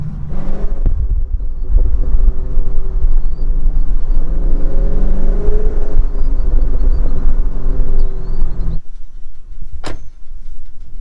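A 2020 Chevrolet Silverado Trail Boss pickup fitted with a cold air intake gives a loud, steady engine rumble and burble with rising rev swells. The engine cuts out near the end, and a brief sharp click follows.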